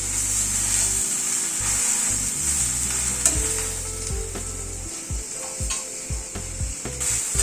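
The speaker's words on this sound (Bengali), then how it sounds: "নুন আর হলুদ দিয়ে ভেন্ডিটাকে একটুখানি ফ্রাই করে নেব।" Okra fries in a pan with salt and turmeric, giving a steady close sizzle broken by scraping stirs and light knocks of a utensil against the pan.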